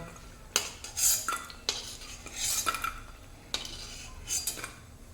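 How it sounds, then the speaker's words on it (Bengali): A metal spatula scrapes and clinks against a pan while lifting fried lentil dumplings out of hot oil, a few sharp separate knocks and scrapes over a faint background, with no speech. "এখন আমার বড়ি ভাজা হয়ে গেছে এবার উঠিয়ে নেব"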